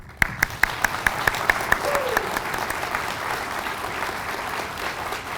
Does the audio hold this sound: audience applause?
yes